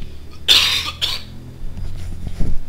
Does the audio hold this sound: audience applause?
no